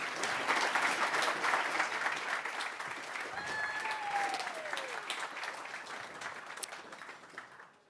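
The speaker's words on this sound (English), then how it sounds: "warm applause" Warm audience applause welcoming a speaker at a Clojure programming conference in Berlin, a full, dense round of clapping that swells early, holds, then fades out, with a brief whistle-like tone partway through.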